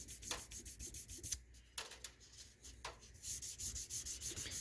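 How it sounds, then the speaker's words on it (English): Jumbo frets on a Jackson compound-radius guitar neck being polished by hand, a close, soft rhythmic rubbing in repeated short strokes with a brief pause midway before the steady scrubbing resumes. "It's just doing like a real small amount of polishing here."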